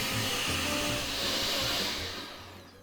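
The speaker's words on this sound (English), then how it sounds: "So just pop it on the top of the blender, like so. We're going to blend that up." A loud, steady motor whir of a blender blending a cocktail, holding constant and then winding down near the end.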